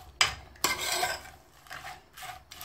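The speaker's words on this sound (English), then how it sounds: "all you're going to do is just give it a quick mix" A spoon scraping and stirring onions, bay leaves and salt in a pot over medium-low heat, two sharp scrapes followed by softer rubbing strokes, close and fairly quiet.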